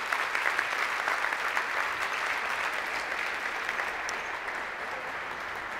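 Sustained applause from an audience at a floral trends forecast presentation, a dense even wash of clapping that holds steady for several seconds with no talk over it.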